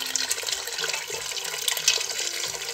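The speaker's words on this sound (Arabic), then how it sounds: "خلات لينا الحيمة غنعمر عليها الماء" Water is poured into a cooking pot while a tajine of meat, peas and artichokes is being prepared, making a steady, close splashing and gurgling wash of sound.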